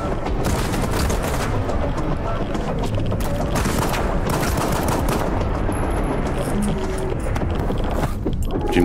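Sustained automatic gunfire from a weapon in Stalker 2, loud and dense bursts running the full length with a scatter of booming impacts and no pauses.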